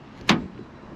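A Nissan X-Trail (T32) driver's door opens with a single short, sharp latch clunk close by, followed by a faint rustle and quiet background.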